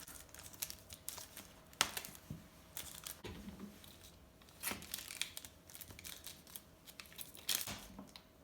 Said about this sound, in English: I'm gonna cut it into pieces and put it in my food processor.